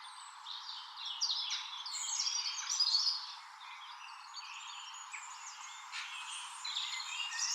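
Chaffinches and robins in a forest, a continuous weave of thin, bright chirps and trilled phrases at moderate distance, overlapping without pause and with no voices.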